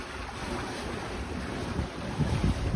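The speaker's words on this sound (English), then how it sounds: "Waves are gradually getting bigger." Sea waves wash steadily around a sailing boat under way off Sweden, a constant close rushing of water mixed with heavy wind buffeting, rising slightly toward the end with no talking.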